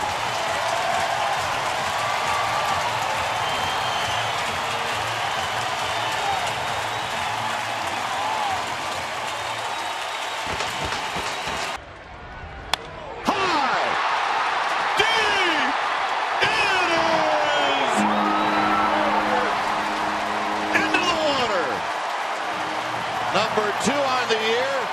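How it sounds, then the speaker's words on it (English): A baseball stadium crowd roars and cheers as Barry Bonds rounds the bases after his 700th home run, a loud, sustained wash of applause and whoops that dips briefly midway, with announcers talking. "and listen to this crowd."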